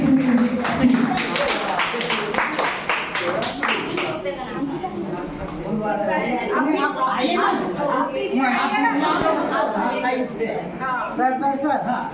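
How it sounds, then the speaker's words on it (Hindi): An audience at a Teachers Day event applauds a teacher being honoured, giving dense, steady clapping that runs for about twelve seconds with chatter underneath. "जोरदार ताली से इनका अभिनंदन करेंगे"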